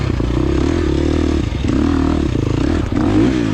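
A 2023 KTM 350 XC-F dirt bike engine revs hard and close during an off-road scramble race, a loud buzzing drone rising and dipping between gear shifts with brief clattering.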